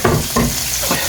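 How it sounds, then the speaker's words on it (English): Cut onions sauté in olive oil with a bright, close sizzle, broken by brief stirring scrapes over about a second. "Alright, so I've got our onions cut. I'm going to saute these separate"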